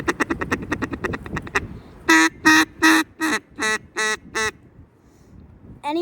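A handheld duck call used by a hunter preparing for turkey season starts with a run of quick clicking ticks, then sounds seven loud, evenly spaced, close quacks that closely imitate a real duck.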